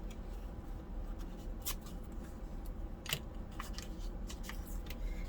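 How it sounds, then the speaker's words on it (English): Scissors snip through a playing card for a junk journal, a few crisp cuts spaced across a quiet room with a low steady background hum. "I'm going to go ahead and cut it off down here also."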